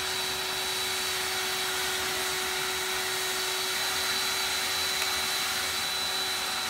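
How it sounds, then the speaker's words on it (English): EGO 56-volt 530 CFM battery leaf blower running steadily while holding a beach ball aloft, a constant loud whirring hiss with a fixed high motor whine and no pauses, no voices present. "I'm gonna put the beach ball on the brand new 56 volt, 530 CFM Ego blower."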